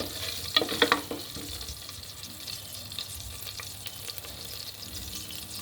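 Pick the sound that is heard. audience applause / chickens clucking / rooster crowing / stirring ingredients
stirring ingredients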